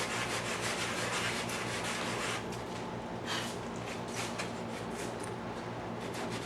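A sanding block rubs back and forth over spackle while building a Great Planes Easy Sport model airplane, giving a steady, close scratchy hiss with several brief stronger strokes in the second half.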